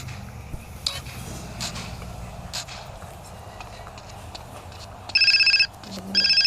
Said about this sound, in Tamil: என்ன ஃபோன் வருது?